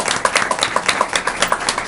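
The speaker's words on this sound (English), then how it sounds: "A round of applause" A small group claps at a fire department recognition event, quick overlapping hand claps in a steady close patter lasting under two seconds.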